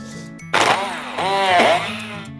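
A food processor whirs steadily, its motor pitch rising and falling as it grinds dates into a thick, sticky mixture.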